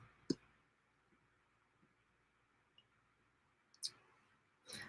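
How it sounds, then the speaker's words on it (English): A few faint, sharp computer mouse clicks on a quiet desk, isolated taps spaced across a few seconds with a low room hum beneath. "And then we're going to click Submit Job."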